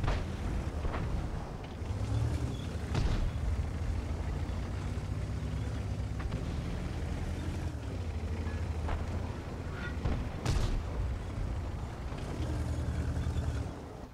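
Heavy ISU-152 tank cannon shots in World of Tanks, several deep booming blasts spread a few seconds apart over a constant engine rumble, with one sharp, especially loud report near the end.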